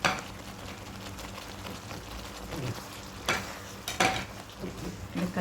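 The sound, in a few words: eggplant added to simmering gravy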